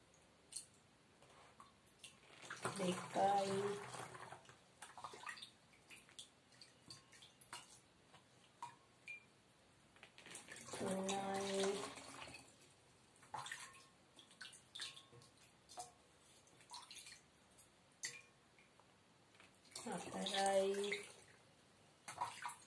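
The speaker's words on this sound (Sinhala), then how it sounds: "අනිත් බෝතලයටත් අපි අර වගේ යෝගට් කප් එක පිරෙන්න වතුර දානවා." Water poured from a yogurt cup into a bottle: three separate splashy pours a few seconds apart, each trickling briefly, with a quiet voice counting in between.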